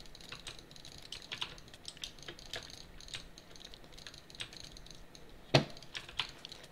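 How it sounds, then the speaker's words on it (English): Rapid jitter clicking on a computer mouse during Minecraft PvP combat, a fast irregular stream of small sharp clicks with a few louder taps, close and fairly faint. "the hit rate for me hitting him is a lot faster than what he's hitting me, because I'm jitter clicking"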